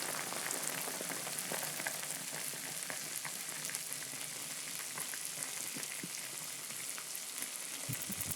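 Steady crackling and bubbling from a lidded pot of water and banana peels nearing the boil, with dense popping and hissing that stays even throughout, no voices.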